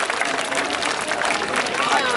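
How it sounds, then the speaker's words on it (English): A crowd at the Bournemouth Air Festival birds of prey show gives a bird a round of applause, a dense, even burst of clapping that fills the whole short stretch. "give this bird a massive round of applause"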